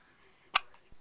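A small child's hiccup, one sharp close burst followed by a fainter second catch a moment later, in a quiet room.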